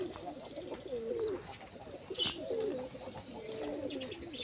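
Pigeons cooing nearby in repeated low, rolling phrases, one call after another, with faint higher chirps and a light background hiss.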